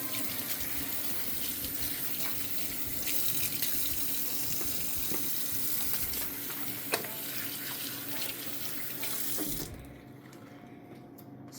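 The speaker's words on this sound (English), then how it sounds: "once I wash my hands here" Water from a kitchen sink tap runs steadily while hands are washed, splashing continuously before cutting off near the end.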